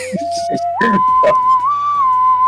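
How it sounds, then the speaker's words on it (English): Someone whistles a short tune, a clear pure tone that slides upward and holds, close and fairly loud, alone with no talk. "Wait, is someone whistling right now?"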